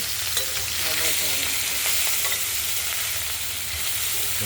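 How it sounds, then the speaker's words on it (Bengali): Small mixed fish such as mourala, chanda and chela fry in oil, producing a dense continuous sizzle with a low kitchen hum beneath, close and steady, no talking. "কিছু কুচো মাছ আমরা টমেটোতে যেগুলো দেবো কিছু ভেজে নেব"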